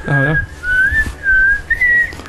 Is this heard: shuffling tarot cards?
no